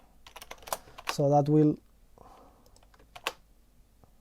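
Quick keystrokes on a computer keyboard, a few sharp clicks scattered under a person talking in a casual coding session, with a short humming tone in the middle.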